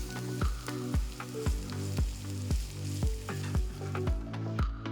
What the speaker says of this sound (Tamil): இதை ஒரு தடவை எண்ணெயில அப்படியே பிரட்டி விட்டு